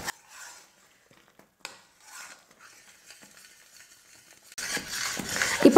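A thick Mysore pak mixture being stirred in a kadai while oil is added a little at a time, with soft scraping and stirring scrapes in short bursts, then a louder, denser sizzling and clatter near the end.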